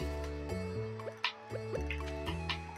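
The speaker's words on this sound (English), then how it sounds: "I'm going to quickly water all these" Watering crops in the Stardew Valley farming game: a steady run of small dripping, splashing water sounds over constant game music, with a louder splash near the middle.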